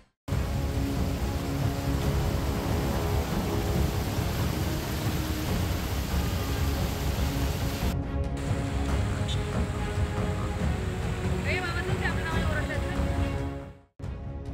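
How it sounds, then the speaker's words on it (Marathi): Torrential monsoon rain falls across southern Raigad around Shrivardhan, Mhasla, Murud, Mahad and Poladpur, a steady loud roaring wash with brief dropouts in the middle and near the end. "रायगडच्या दक्षिण भागातील श्रीवर्धन, म्हसळा, मुरुड, महाड, पोलादपूर परिसरात मुसळधार पाऊस कोसळत आहे"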